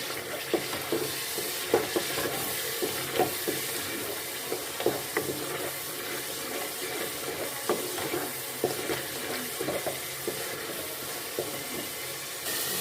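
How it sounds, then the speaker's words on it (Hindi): A spoon stirs boiled, mashed potato into an egg and chickpea curry in a pot, making soft, repeated scraping and squelching strokes with a faint sizzle underneath. "हमने आलू को बॉईल कर लिया था और उसको मैश कर लिया था, वो इसमें हम डाल देंगे और इसको हम अच्छे से मिक्स कर लेंगे।"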